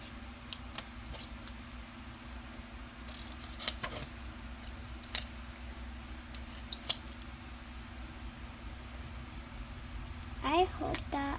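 Scissors cutting out a paper drawing give faint, scattered snips and crisp paper rustles close by over a low steady background hum.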